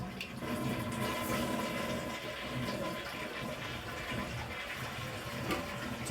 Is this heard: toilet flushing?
yes